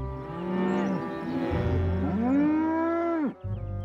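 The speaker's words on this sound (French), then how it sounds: "Ces vaches ne devraient pas être là." Cows mooing in an animated children's railway setting, several long, deep, drawn-out lows overlapping and sliding in pitch, loud and close, ending with a brief break and another call starting.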